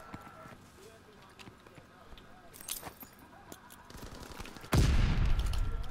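Machine gun fire in a Call of Duty match on the Gibraltar map's Hardpoint mode, scattered shots at first, then a loud, sustained burst near the end, with people talking throughout.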